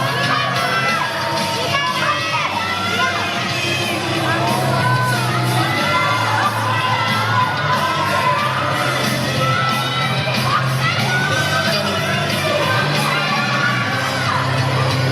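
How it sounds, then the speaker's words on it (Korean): Crowd of football fans at Incheon Airport cheering, whooping and shouting to welcome the Korean men's Asian Games football team home, a dense, steady roar throughout with some talk mixed in. "태극 전사들에게 여러분 다시 한번 축하의 박수를 부탁드리겠습니다."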